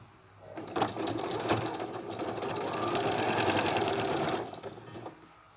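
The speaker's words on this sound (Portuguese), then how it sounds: "Volto para a máquina e o tempo todo eu fico de olho aqui na margem de costura do pé da máquina." A domestic sewing machine runs for about four seconds, sewing a binding strip onto a Christmas project. The stitching is a fast, even mechanical whir that starts and stops cleanly, close by and without talk.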